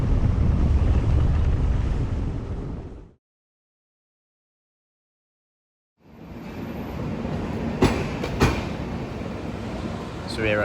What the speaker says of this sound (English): to get the train to Mumbai.